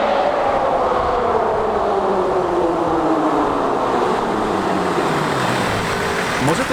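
Loud, constant road rumble inside a moving off-road car fitted with off-road tyres, a droning hum whose pitch slowly falls as the car slows, filling the whole stretch with no pauses.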